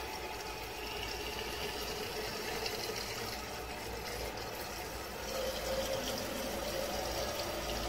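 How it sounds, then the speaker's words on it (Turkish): Tap water from a fountain pours steadily into a container for making apple cider vinegar, a continuous, fairly quiet rushing splash that swells slightly toward the end. "Buraya kadar içme suyu dolduruyoruz. Ben şimdi çeşmeden dolduracağım."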